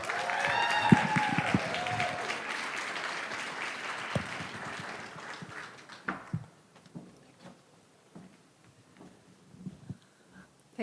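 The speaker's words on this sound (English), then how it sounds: "Please welcome tonight Referee Mary Madden." An audience applauds to welcome a speaker at a 45th anniversary fundraising event. A dense round of clapping with some crowd noise fills the first six seconds, then thins out to scattered, fading claps.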